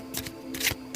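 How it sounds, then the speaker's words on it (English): A deck of cards shuffled close up, two brief papery riffling bursts within a second, fairly soft, over a faint steady background hum. "I'm going to just shuffle these cards up."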